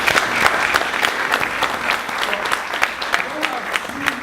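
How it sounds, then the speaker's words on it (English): An audience at a higher education forum gives the Lieutenant Governor a round of applause, a steady mass of clapping with some sharper individual claps, while a voice speaks briefly over it. "Let's give the Lieutenant Governor another round of applause"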